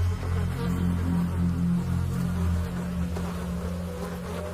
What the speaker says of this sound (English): Insects swarm on the remnants.